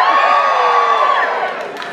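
A theatre audience at a Blackpool concert cheers, whoops and shouts loudly together as a dense roar that fades slightly toward the end.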